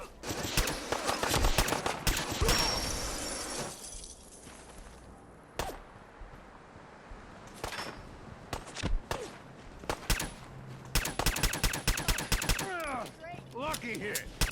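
Gunfire in the Fallout 4 video game comes in rapid clustered bursts of shots separated by quieter lulls, crisp and fairly close, with brief game sounds between volleys.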